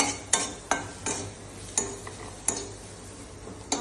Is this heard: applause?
no